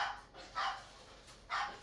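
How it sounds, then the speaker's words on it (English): A pug barks twice, short sharp yaps a second apart, fairly close but not very loud. "So that's why she's barking."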